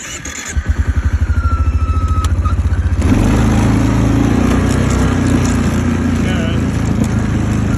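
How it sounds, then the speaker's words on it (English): A four-wheeler ATV engine cranks with a rapid rhythmic starter chug for a few seconds, then catches and roars into a loud, steady close-up idle that holds to the end, with no talking. "Let's fire up the four-wheeler."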